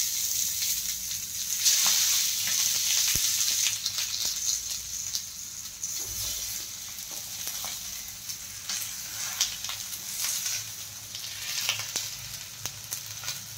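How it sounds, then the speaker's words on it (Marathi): Alu vadi, colocasia leaf rolls, fry on an oiled griddle with a steady close sizzle dotted with crackles and pops, fairly quiet and with no talking. "एक 2 मिनिट आपण आता असंच ठेवणार आहोत तव्यावर वड्या।"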